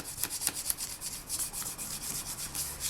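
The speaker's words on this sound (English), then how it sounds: "Now I just want to start by just lightly burnishing the piece, and this will just give it a nice smooth matte texture to begin with" A polymer clay piece is lightly burnished against printing paper, giving a faint, close rubbing sound in short repeated strokes with a soft, even rhythm.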